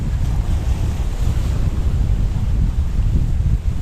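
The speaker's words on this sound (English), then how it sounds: "It really, really is windy indeed" Strong wind buffets the microphone on the Paphos seafront promenade in Cyprus, a loud, continuous rushing roar with gusty low-end thumps and no talking.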